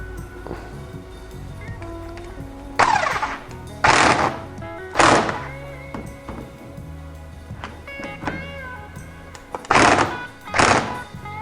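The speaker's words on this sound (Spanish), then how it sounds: "Y esta pistola aprieta muy bien y afloja también muy bien." Impact wrench tightening a fork bolt on a 2006–2009 Yamaha X-Max 125 scooter, five loud separate bursts of rattling hammering, each about half a second, spaced by quieter pauses in a workshop.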